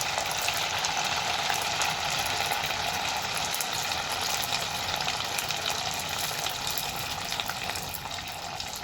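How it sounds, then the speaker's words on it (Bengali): Semolina snacks deep-fry in hot oil on a lowered flame, a dense, continuous sizzling hiss that stays loud and even throughout with no talking. "এবার আমি চুলোর আঁচটাকে কমিয়ে নাস্তাগুলো ভেজে নেব"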